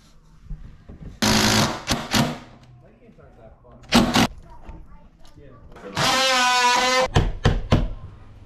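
A power driver sinks screws while a sliding glass door is fastened into a converted window opening, coming as two loud sustained whirring runs separated by short bursts, clunks and handling noises.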